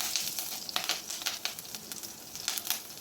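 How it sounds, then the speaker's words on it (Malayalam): Finely chopped green chillies sizzle in hot coconut oil in a pan, a steady close crackling hiss with scattered sharper pops throughout. "2 പച്ചമുളക് കട്ട് ചെയ്തതാണ്, ചെറുതായി പൊടിയായി അരിഞ്ഞെടുത്തിട്ടുള്ളതാണ്, അതിട്ട് കൊടുക്കാം"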